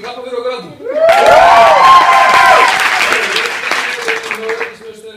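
A group breaks into loud, sustained clapping and cheering with whoops just after a brief voice, then the applause slowly thins out toward the end.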